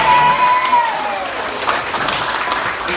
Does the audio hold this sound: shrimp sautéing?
no